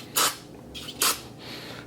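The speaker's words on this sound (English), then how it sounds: "So I'm just spraying it. Gonna spray it down." Two short hissing bursts of cleaner sprayed from a trigger bottle onto a microfiber cloth, quiet and close, with faint softer spray noise between them.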